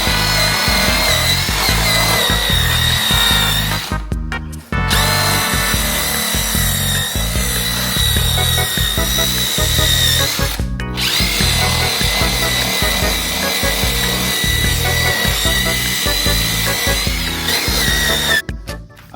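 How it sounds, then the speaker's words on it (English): A power tool buzzes steadily and loudly while polishing a three-piece wheel, running in long stretches broken by three brief pauses. "I'm going to continue polishing this, and when I'm done, I'll show you the final result"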